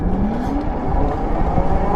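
A 2024 Wired Cruiser e-bike runs at full throttle in pedal assist level 5, its motor giving a steady, rising electric whine with wind and road rumble throughout, close and continuous.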